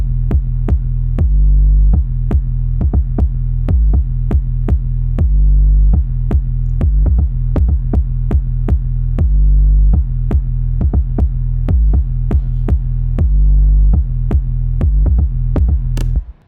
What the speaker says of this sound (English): the 808 sounds like this.